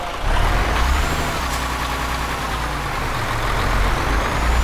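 Heavy truck engine in Euro Truck Simulator 2, running steadily and loud throughout while maneuvering a Volvo trailer into place on a Brazilian farm map, with a brief air brake hiss partway through.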